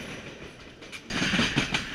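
Rocky Mountaineer passenger train running on rails through short tunnels on the scenic line to Whistler, a steady rolling rumble that swells louder about halfway through, with faint rhythmic wheel clatter and no talk.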